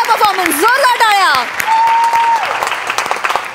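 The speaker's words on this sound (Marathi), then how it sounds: "मस्त झाला परफॉर्मन्स, जोरदार टाळ्या." Loud, dense clapping from a studio audience after a comedy sketch performance, continuous throughout, with a voice speaking over it.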